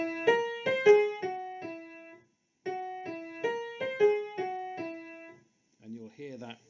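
A short instrumental phrase plays a palindromic rhythm from Messiaen's Quartet for the End of Time, even quavers around one semiquaver, with pitched plucked or struck notes repeating the pattern twice, then a brief fainter passage at the end.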